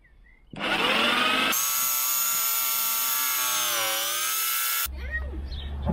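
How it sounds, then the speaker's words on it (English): A jigsaw cuts wood for a tambour door on a T2 camper. The motor whines in loud, steady tones for about four seconds, starting and stopping abruptly, with some workshop noise after it stops. "manoeuvre the jigsaw until I get to the right edge"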